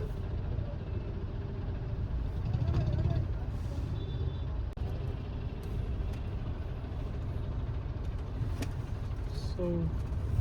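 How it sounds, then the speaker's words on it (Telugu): Traffic jam on the approach to the Swarnagiri temple at Bhuvanagiri: idling car and bus engines make a steady low rumble, with a brief air-brake hiss and a distant horn, and people talk nearby. "ట్రాఫిక్ జామ్ అయిపోయింది."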